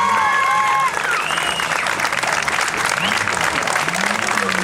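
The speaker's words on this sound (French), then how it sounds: "On peut les applaudir bien fort." Outdoor crowd applauding the winners on the podium of the 2016 Lyon-Charbonnières-Rhône rally, a dense, loud, steady clatter of clapping filling the whole stretch, with voices and whistles mixed in near the start.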